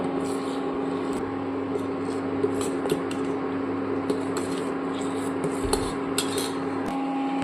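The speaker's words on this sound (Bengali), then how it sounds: "এবার এটাকে দিয়ে ভালো করে নাড়াচাড়া করব এবং ভালো করে ফোটাবো" Saffron milk payesh stirred in a pot, with continuous soft scraping and light clinks of a spoon against metal over a steady low simmering hum.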